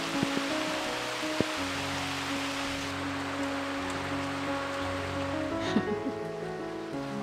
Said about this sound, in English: Not so happy about the rain,